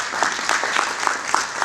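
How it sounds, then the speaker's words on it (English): A short burst of applause for CEOs at a corporate forum, with a full, steady wash of clapping and a few sharper individual claps standing out. "Ladies and gentlemen, now as a resounding round of applause for our CEOs."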